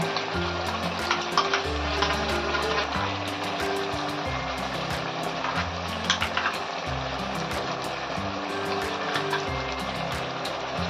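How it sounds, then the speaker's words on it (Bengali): Blended onion, tomato and cashew paste hits hot oil in a pan, giving a steady close sizzle with intermittent stirring clatter throughout. "এইবার পেঁয়াজ টমেটো কাজু একসঙ্গে মিক্সার করে রেখেছিলাম, সেটা দিচ্ছি।"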